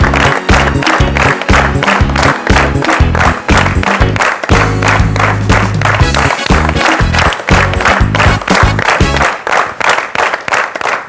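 Studio audience on a TV show breaking into loud, sustained applause, rhythmic clapping that fills the whole stretch with a dense crowd sound.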